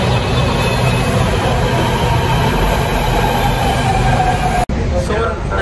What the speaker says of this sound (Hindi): देखो वो मेट्रो आ रही है यहाँ पर